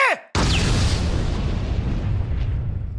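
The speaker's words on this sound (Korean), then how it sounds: "탈옥범이 차고 있던 목걸이가 폭발합니다" A bomb necklace worn by an escaped convict detonates in an anime: after a brief descending whistle and a split-second gap, a sudden loud blast bursts out and settles into a sustained roaring rumble.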